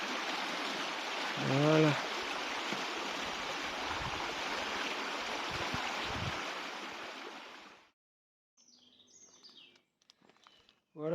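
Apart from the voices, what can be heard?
small stream flowing along a path in the Morvan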